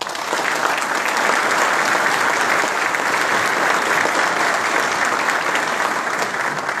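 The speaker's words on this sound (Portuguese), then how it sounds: "peço a vocês uma salva de palmas ao Maurício e ao Anderson pela orquestração deste belo evento" Sustained audience applause at an opening ceremony, a dense, even wash of clapping that holds steady at full strength from start to finish with no voices on top.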